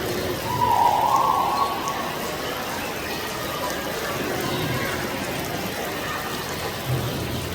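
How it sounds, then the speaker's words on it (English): Steady hiss of simulated rain in a zoo exhibit fills the space, with a brief tonal whistle early on and faint background voices mixed in. "simulated rain right now."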